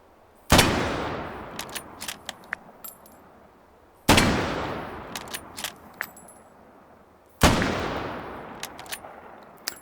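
Three sharp, loud rifle shots in the video game Battlefield 1, spaced a few seconds apart, each followed by a long ringing echo and light metallic clicks of the bolt action.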